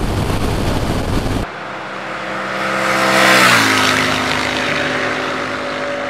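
A 2019 Royal Enfield Interceptor 650 ABS motorcycle accelerates hard on an open road, its engine note rising and falling through the gears, loud and close with strong wind rush.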